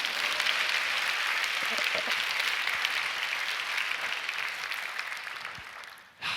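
Audience clapping fills a prayer-meeting hall, a steady dense applause that holds loud for about six seconds, then fades and dips briefly before a short final swell.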